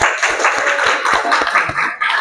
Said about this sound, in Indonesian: Oke, tepuk tangan buat Afrina